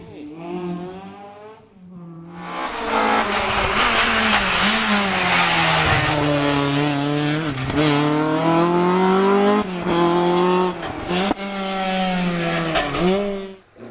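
A powerful historic rally car tears along a stage of the 2021 Argyll Rally near Dunoon, its engine revving hard and loud up through the gears, with brief dips between shifts, close to the listener.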